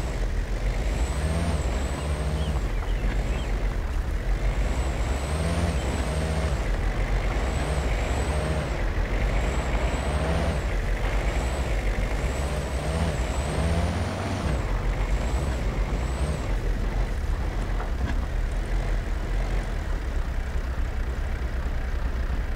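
A vehicle driven up to a suitcase in the hunting game Way of the Hunter, with a steady heavy engine drone and repeated rising whines from the motor as it moves, close and continuous, with no speech.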